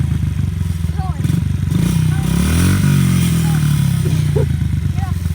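A motorbike engine revs loud and close, its pitch sweeping up and falling back in a continuous rasping drone, while people talk over it and a voice rises at moments.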